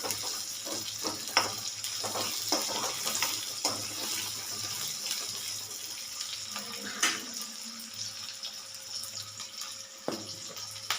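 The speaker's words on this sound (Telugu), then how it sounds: "నేను ఇప్పుడు ఫ్రై చేస్తున్నాను" Broad beans (flat bean pods) fry in a pan with a steady, close sizzle, broken by occasional clinks and stirring scrapes; no one speaks.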